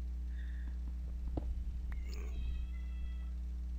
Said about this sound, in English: Pretty sure you can hear my cat right there.